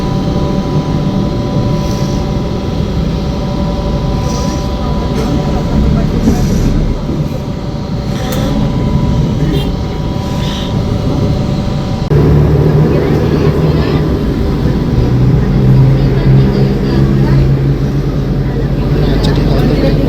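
A TransJakarta bus pulls away and cruises, heard from inside as a loud, continuous low engine and road rumble whose tone shifts partway through, with voices talking underneath.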